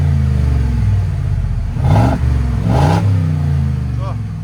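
A 2021 Ford F-250 with a 6.2L V8, exhaust valves open, idles with a deep rumble and then revs twice in quick bursts, loud and close, with a voice briefly speaking over it.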